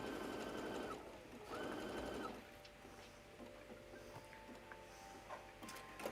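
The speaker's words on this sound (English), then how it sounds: "I'm just sewing the 2 bits that where I cut through the pattern to get 1 large piece of fabric" Close, fairly quiet sewing machine stitching two fabric pieces together for a summer wrap, with two short bursts of rapid whirring followed by slower, ticking stitches and light mechanical clicks.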